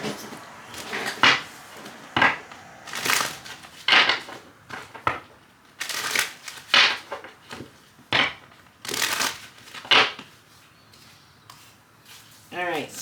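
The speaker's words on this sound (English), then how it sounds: "Let me grab them and we'll do a quick shuffle" Tarot cards being shuffled, a series of short crisp riffling and slapping bursts that repeat irregularly and close up, with a person speaking between them.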